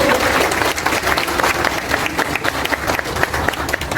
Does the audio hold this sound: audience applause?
yes